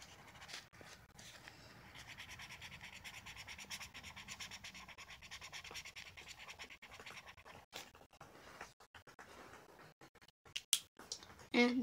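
Cat scratching a scratching post, a fairly faint, continuous raspy clawing that runs for several seconds before breaking into irregular scratches and bumps, with no talk over it.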